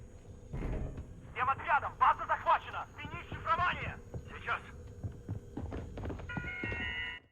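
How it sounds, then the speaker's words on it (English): Activation phone in the Warzone Bunker 11 easter egg: repeated trilling ring bursts, fairly close, with thuds and footstep-like knocks between them, then a short tonal tune at the end. "So when you find an activation phone, it should be ringing like this"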